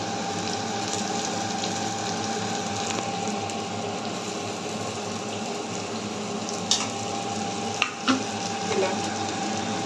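Carrot and green chillies sizzle and fry in a hot pan at home, a steady broadband hiss with a few sharp clinks of a utensil stirring near the end; no talking.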